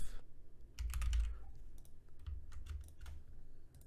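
Fast, light clicking of keys on a computer keyboard, close and fairly quiet, in an irregular run of taps across a few seconds with no talking.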